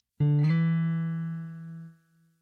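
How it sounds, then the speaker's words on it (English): A single plucked guitar note that quickly slides up in pitch, then sustains and rings out before fading. "When you slide up, you'll see a forward slash,"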